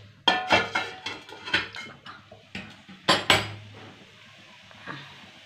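Jujubes drop into a metal pan on the stove as a Bengali-style jujube pickle is made, giving a quick series of sharp metallic clatters and clinks followed by a fainter tap.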